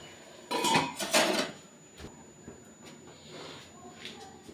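A metal pot lid clanks on and off a pan while spinach ghonto (palong shak) cooks. Two loud clatters come early, followed by lighter clinks and scrapes.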